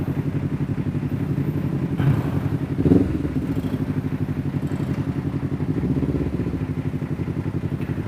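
A motorcycle idles and creeps through a long traffic jam, its engine chugging steadily up close with brief revs and clunks as it shifts into first and back to neutral.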